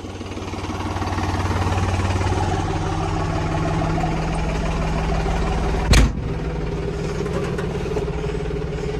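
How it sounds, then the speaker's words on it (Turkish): A tractor engine labouring under a heavy load drones steadily from inside the cab, a loud, constant rumble with a rattling edge and one sharp clunk partway through. "Çok fazla ses alıyor traktörün içine."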